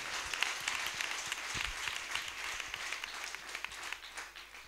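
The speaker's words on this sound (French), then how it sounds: "Clap for Jesus." A church congregation applauds for Jesus, a sustained, dense wash of many hands clapping at moderate distance, steady throughout with no voices standing out.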